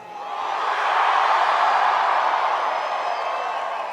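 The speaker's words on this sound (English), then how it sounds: "we have tonight a large crowd and a raucous crowd" Large, raucous crowd at a Bernie Sanders political rally roars in a continuous broad wash of cheering and noise, swelling up and holding loud throughout.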